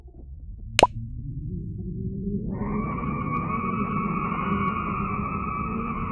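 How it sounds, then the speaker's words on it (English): Eerie space sound attributed to a nebula: a single sharp plop at the start, then a low hum that swells into a sustained, wavering ghostly drone. "Next is the nebula sound."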